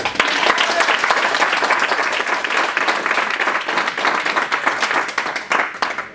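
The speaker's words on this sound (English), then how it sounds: "can everyone give a giant round of applause for Janet?" Dense, sustained applause from a conference audience greeting a speaker, loud and steady for about six seconds with no talk over it.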